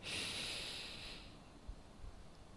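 A slow, steady inhale of about a second, taken as the opening count of a calm breathing exercise. It is close and soft, a breathy hiss with nothing else over it, then quiet room tone.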